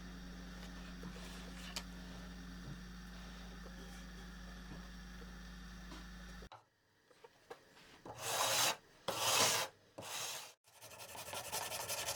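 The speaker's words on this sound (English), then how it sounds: "After they're dry, I'll scrape, sand, and file them smooth." Rasping rubs from filing and sanding epoxied blanks smooth on a Gibson Mark-81 guitar: two strong, longer strokes and a few lighter passes, close by, after several seconds of steady low electrical hum.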